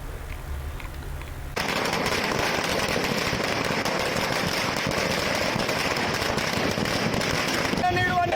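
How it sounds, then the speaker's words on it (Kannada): Firecrackers burst in a rapid, dense string at a farmers' association celebration in Kollegal town, loud and continuous after a brief quieter start. "ಕೊಳ್ಳೇಗಾಲ ಪಟ್ಟಣದಲ್ಲಿ ಪಟಾಕಿಯನ್ನ ಸಿಡಿಸಿ"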